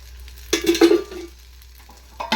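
Ragi set dosa cooking on a pan just after oil goes in, with a short burst of loud sizzling that fades to a quiet hiss before a second flare-up.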